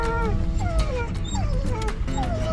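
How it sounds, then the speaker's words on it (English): Several dogs bark, yip and howl close by while chasing a jeep on a scenic loop drive in Monument Valley, with engine rumble running steadily underneath the loud, overlapping calls. "I don't know if these are native dogs or if these are random people's dogs, but they're chasing us one way or another"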